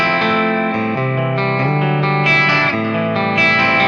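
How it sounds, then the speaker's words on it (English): Electric guitar run through a TC Electronic Nova System with an analog-style echo, playing a sustained, chorded phrase whose notes smear into soft repeating trails; loud, steady and close, with no talking. "That's like an analog echo I've got going."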